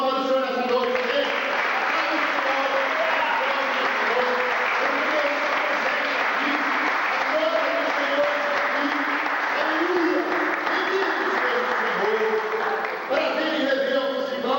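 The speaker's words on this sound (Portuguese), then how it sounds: "Vamos dar uma salva de palmas para o Senhor nessa noite, amém?" A church congregation at an evening service claps in a long, loud, unbroken round of applause. Voices and shouts of praise rise through it, and the clapping thins briefly near the end before picking up again.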